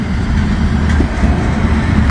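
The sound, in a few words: passing train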